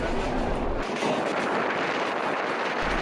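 Rupsha Express intercity train speeding from Khulna toward Natore, a steady loud rumble and rattle of carriages heard from onboard, continuous with no talk.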